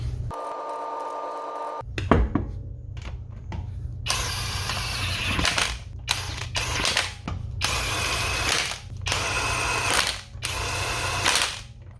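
Lug nuts being run onto the wheel of a 2010-2014 Ford Taurus with a ratcheting tool, several loud bursts of rapid clicking whir separated by short pauses, close by with no talking.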